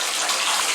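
Water sloshing and splashing in a bubble bath at home, a steady close, loud watery wash without a break.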